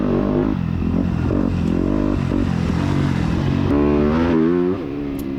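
A motocross dirt bike, a 250F in a B class race, roars nonstop on a fast, flowing track, its engine rising and falling through revs and gear changes close by, with rattles and scrapes, then easing off at the end.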